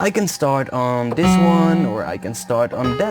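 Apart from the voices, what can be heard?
No distinct noise like a dog, phone or traffic.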